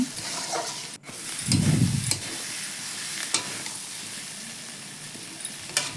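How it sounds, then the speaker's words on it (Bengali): Onions frying in a spiced masala in a pan as part of a fish-roe dopiaza, stirred with steady scraping strokes under a continuous close sizzle, with a brief louder clatter near the start. "পেঁয়াজটা দিয়ে দিলাম দিয়ে কিছুক্ষণ নাড়াচাড়া করে নেব একটু আমি কিছুক্ষণ নাড়াচাড়া করে নিচ্ছি"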